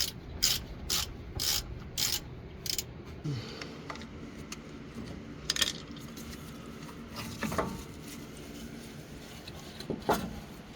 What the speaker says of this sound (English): We're going to start by removing this caliper from the bracket.